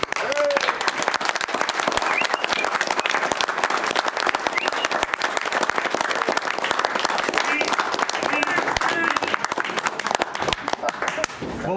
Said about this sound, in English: Would you all applaud?